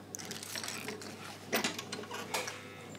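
A sewing machine stitches the welt pocket bag of a blazer, a steady mechanical whirr with rattling ratchet-like clicks, moderately close, with a couple of brief louder bursts.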